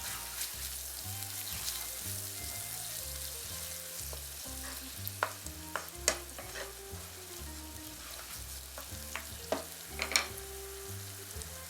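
Salt, pepper, garlic powder and oregano fry in a pan for risotto, a soft steady sizzle with intermittent spoon scrapes and taps as it is stirred, over quiet background music.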